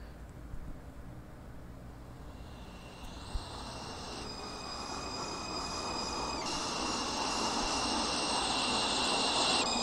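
A J local subway train at Kosciuszko Street in a rail simulator game rumbles and rises steadily, with whining tonal motor hums stepping up in pitch as it builds, alone and fairly close.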